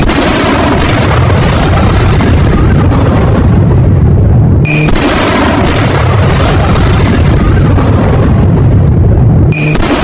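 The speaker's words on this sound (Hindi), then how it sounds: "ये धमाका इतना भीषण था।" Heavy, sustained explosive rumbling and booming from an Israeli attack on Iran fills the scene loudly, interrupted twice by short cuts.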